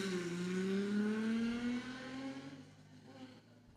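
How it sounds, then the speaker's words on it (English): A loud Holden race car with only a very small muffler screams past at a revival meeting, its engine note rising as it accelerates and then fading away into the distance. "Quite a quick car, and it makes a lot of noise and also a lot of power."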